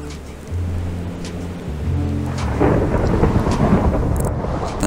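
A thunderstorm in the Minecraft video game: low rolling thunder swells over steady rain noise, building louder after a couple of seconds, with no voices.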